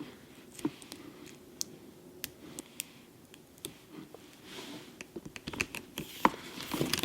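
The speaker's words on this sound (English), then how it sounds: "Let me remove the stickers." Stickers peeled off a Hermes handbag, heard as faint, irregular crackles, clicks and sharp ticks. They come in quick bursts against a quiet indoor background.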